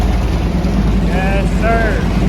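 A Harley-Davidson Road Glide motorcycle engine runs after its first start-up, a steady low rumble filling the whole stretch, with a voice cutting in briefly over it.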